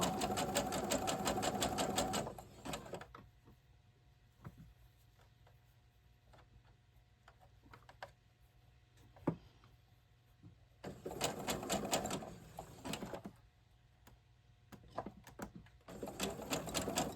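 Sewing machine stitching doll clothes for an 18-inch doll, rapid rattling bursts of stitching separated by quiet pauses with small handling clicks, close by.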